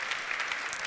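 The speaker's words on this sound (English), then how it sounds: "Big applause." Audience at a FashionSustain 2018 talk during Helsinki Fashion Week applauding, a brief, even burst of clapping from a crowd.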